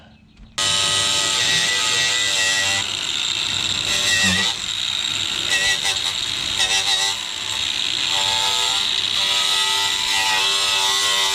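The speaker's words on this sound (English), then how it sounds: "I'm going to hit it with the wire brush, and just to make sure I get a good weld" Wire brush scrubbing metal on a 2004 Chevrolet Silverado single cab rocker panel before tack welding, a loud steady abrasive rasp with brief dips that runs without pause through the whole stretch.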